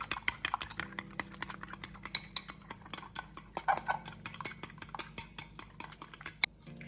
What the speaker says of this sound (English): I'm just going to whisk the seasonings into the egg.